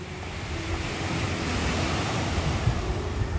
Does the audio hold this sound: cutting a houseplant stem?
no